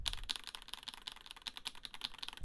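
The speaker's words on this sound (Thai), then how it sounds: "เดี๋ยวผมจะเทสในส่วนของการกดคีย์บอร์ด" Rapid, crisp clicking of computer keyboard keys pressed in a quick irregular rhythm, close and fairly quiet, with no voices.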